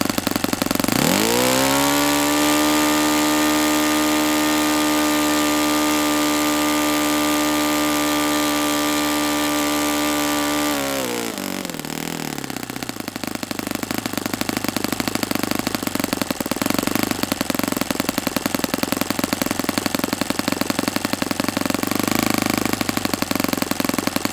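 A Saito FA-50 four-stroke model airplane engine runs at a high steady pitch after a rising start, then drops to a rough, throbbing idle that continues loud and close, with no voices.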